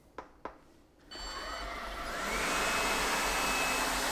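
A couple of soft clicks, then a LeFant F1 robot vacuum spins up on suction level 3 and settles into a steady, loud whirring roar that grows stronger and holds.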